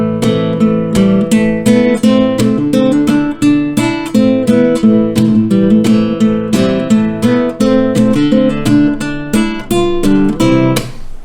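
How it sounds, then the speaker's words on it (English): Fingerstyle guitar in a steady percussive groove, chords ringing continuously with sharp thumb ghost-note slaps falling on beats 2 and 4, loud and close with no talking. "I'm playing a ghost note with my thumb"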